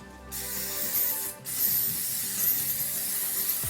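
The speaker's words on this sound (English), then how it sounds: "you actually can use this as your setting spray as well" A steady hiss of aerosol sunscreen spray, used as a makeup setting spray, broken by a brief pause, then continuing in a long, close spritz.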